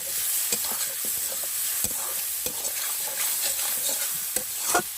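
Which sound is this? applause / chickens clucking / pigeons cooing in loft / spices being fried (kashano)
spices being fried (kashano)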